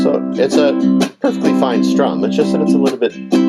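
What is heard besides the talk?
No distinct noise like a dog, phone or traffic.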